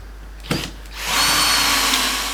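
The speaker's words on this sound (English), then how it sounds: "Then screw the screws in around the outsides." A power drill whirs steadily as it drives screws into wooden boards for a DIY air rifle stand, up close and alone after a short knock.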